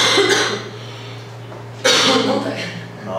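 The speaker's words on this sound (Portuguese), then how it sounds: "na minha ela vai tossir agora." A woman coughs twice, with a sharp burst at the start and another about two seconds later, close and fairly loud against a low background hum.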